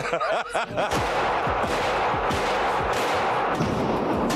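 Gunshots ring out at a firearms class in Detroit, a rapid series of sharp cracks repeating across the span, with brief voices at the start.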